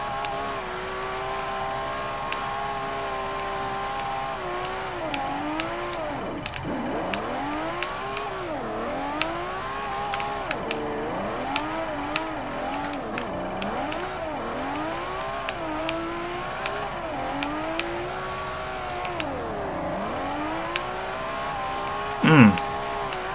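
A Lamborghini Sesto Elemento drifts in the racing game Forza Horizon 4, its engine revving up and down continuously through the turns, with a short sharp tire screech near the end.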